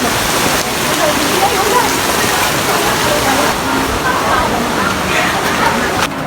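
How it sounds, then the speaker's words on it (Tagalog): Steady, fairly loud rain, beginning to ease off, hisses continuously, a dense wash of falling water with no clear breaks. "Humina-hina na yung ulan."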